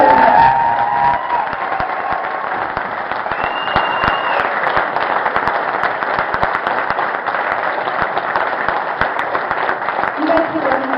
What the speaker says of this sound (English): let's just give our pastors one more round of applause.